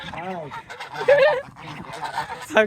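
A bird perched on a person's shoulder outdoors gives short, close, honking cries a few times over a couple of seconds, mixed in with nearby voices.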